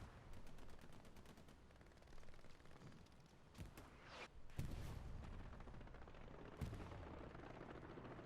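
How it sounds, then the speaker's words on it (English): Artillery and gunfire in a World War II video game battle on the Utah Beach offensive: steady distant rattling fire punctuated by several loud, sharp blasts, with no voices. "Artillery is heavily supporting the Americans right now"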